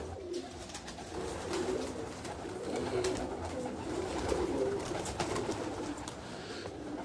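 Pigeons coo in a steady, overlapping murmur throughout, a flock of fancy high-flying pigeons kept in Jinnah Garden, Islamabad, with continuous low coos and some brighter bird calls, no speech.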